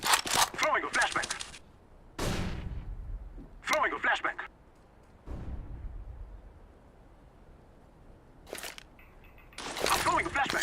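Several loud, sharp bursts from a video game flashbang and gunfire in short clusters, one with a long low rumbling tail, with quieter gaps of ambient noise between them.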